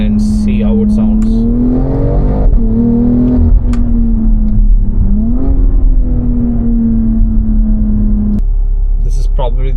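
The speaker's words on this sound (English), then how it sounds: "This is probably the first S58 exhaust sound that I've actually liked." A BMW X3M with its S58 engine and Active Autowerke exhaust revs through a pull, a loud droning tone rising and dipping, with a voice talking over it much of the time.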